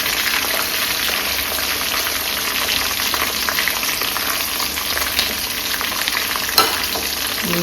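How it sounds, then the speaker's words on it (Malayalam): Loud, steady sizzling of crushed garlic and ginger sautéing in hot oil, a continuous crackling hiss close up with an occasional clink of a utensil. "ഇത് നല്ലതായിട്ട് വഴറ്റുക"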